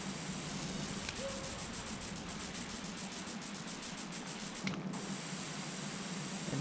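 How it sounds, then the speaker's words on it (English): Steady broadband hiss of a pressure washer spraying water on a house wall and chimney in PowerWash Simulator, continuous and even throughout with a brief tink near the end. "And just spraying underneath that chimney bit."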